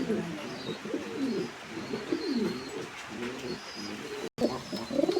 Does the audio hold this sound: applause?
no